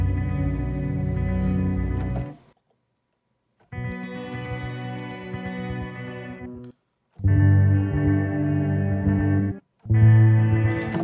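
A chord played on a sampler instrument in Logic Pro X using the Antiquarian Echo patch: a rich, sustained tone with chorus-like wobble and echo, struck several times in separate bursts with short silences between.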